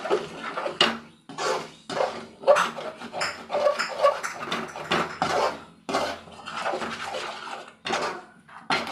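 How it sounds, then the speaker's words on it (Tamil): Four broken eggs are beaten in a pan with a utensil, giving repeated quick clinking and scraping strokes in uneven bursts, close and fairly loud. "நாலு முட்டை உடச்சி வச்சுட்டு ஊற்றிட்டு நல்லா மிக்ஸ் பண்ணிக்கலாம்"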